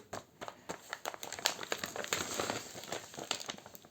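Crinkly plastic wrapping of a Kuromi-themed package being opened, close and continuous, with quick irregular rustles and crackles swelling and fading.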